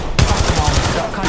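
Rapid automatic gunfire in the video game Apex Legends, a loud close burst of about ten fast shots lasting around a second.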